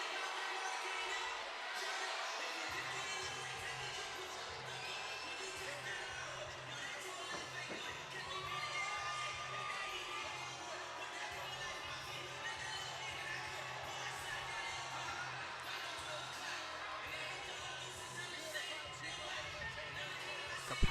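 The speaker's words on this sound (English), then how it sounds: "Capacity crowd here at the Masonic Temple." A capacity crowd fills the Masonic Temple before a women's boxing fight, with a dense, distant murmur and rumble of many voices holding steady over the whole stretch.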